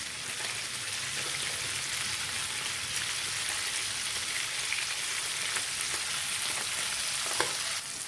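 Mackerel fish coated in spice paste frying in a pan makes a steady, close crackling sizzle like rain, with a few sharper pops and no speech.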